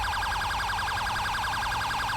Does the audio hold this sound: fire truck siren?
yes